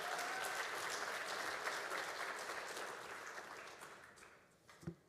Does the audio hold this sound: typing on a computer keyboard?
no